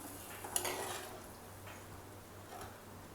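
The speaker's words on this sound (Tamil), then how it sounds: "இப்போ இதை வந்து நல்லா மிக்ஸ் பண்ணி விட்டுடலாம்." A spoon stirs drumstick and egg curry in a metal pot, giving quiet scraping and a few light clinks against the pot's side, heard close up over faint background hum.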